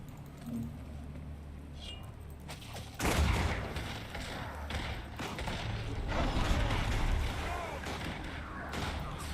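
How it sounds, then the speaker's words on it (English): Catapults hurl undead in a Guild Wars 2 battle, with a heavy burst of launches and impacts about three seconds in and continued rumbling, thumping mechanical action behind a noisy combat mix. "now they're catapulting undead again, like they did in Claw Island with the recent ship"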